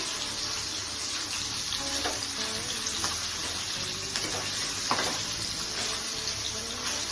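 Tangra fish deep frying in hot oil, producing a dense, continuous sizzling hiss with faint bubbling crackles and soft utensil clicks scattered through it.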